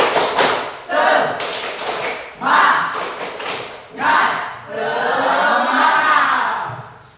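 A class of students doing a rhythmic spirit clap in unison during an ice-breaking activity in a classroom, loud bursts of group clapping and chanting in repeated phrases, ending in a longer sustained stretch.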